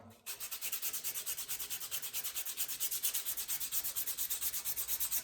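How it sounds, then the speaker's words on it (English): Sandpaper of 80 grit rubbed back and forth on a varnished wooden hammer handle to strip the finish, a steady, rhythmic scratchy rasp of even quick strokes, close and alone. "So we'll go ahead and get this guy sanded down."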